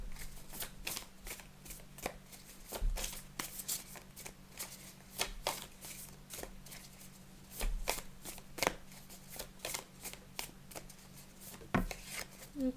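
Tarot cards being shuffled by hand in a quiet room, rapid papery riffles and soft slaps in an irregular rhythm, close and fairly faint.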